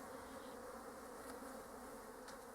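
Honey bees buzz softly around a hive box, a faint, continuous hum of many wings with a few louder passes close by.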